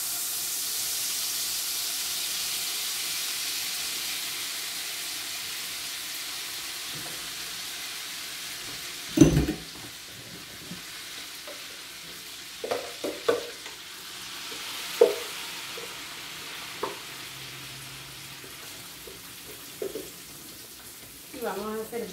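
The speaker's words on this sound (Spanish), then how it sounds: "Vamos a hacer bien refritos los frijolitos para que nos queden bien deliciosos" Refried beans sizzle steadily in a hot pan on a lowered flame, with a soft hiss under scattered scraping knocks of a spoon stirring them, the knocks coming in irregular bursts later on.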